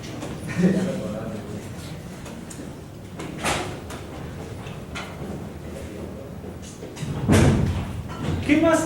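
Someone opens a classroom door, giving a few dull thumps and a sliding knock spread across the stretch while a lecturer keeps talking over it.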